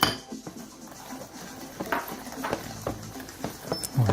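A whisk clicks and scrapes rhythmically against a bowl while egg yolks, sugar and cornstarch are mixed, a string of close, irregular metallic taps with no voices.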